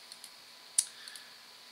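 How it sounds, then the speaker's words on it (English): Computer mouse double click, a small crisp tick pair, close and quiet against faint room hiss, with a few softer clicks scattered around it. "I can even go further and double click on the"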